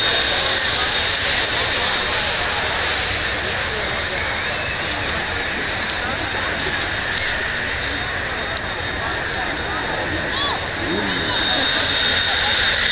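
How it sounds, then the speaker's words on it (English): The jet engine of the MAV-TV Missile jet car is started with an air bottle starter at a night drag-racing event, a loud, steady, whining roar that holds for over twelve seconds while a commentator talks over it. "Air bottle going on the front of that jet engine."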